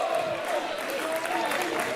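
A fight-event crowd applauds fighter Yoichi during his bout with Skaar at Rixe episode 19, a steady wash of clapping and cheering that stays level and fills the space without a break.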